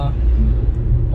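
A truck carrying cars rolls past on a busy two-lane eastern highway in Aceh, giving a steady low engine rumble and road noise close by, loud and continuous throughout.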